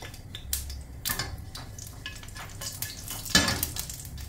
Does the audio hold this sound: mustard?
yes